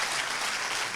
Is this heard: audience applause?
yes